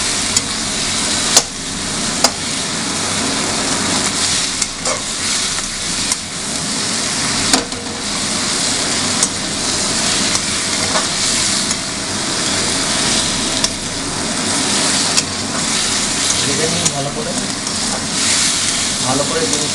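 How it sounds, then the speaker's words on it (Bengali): Fish heads frying and being stirred in a pan of hot oil, a steady broadband sizzle running the whole time with occasional sharp scrapes and clinks of the spoon against the pan, close and fairly loud. "ভালো করে জিনিসটাকে ফ্রাই করে নেওয়া হচ্ছে। দেখুন ভালো করে নাড়ানো হচ্ছে।"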